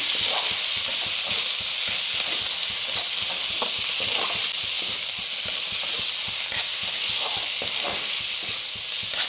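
Local pork stir-fries in a pan, with a continuous loud sizzle broken by frequent scraping and stirring clatter, heard close up without talk.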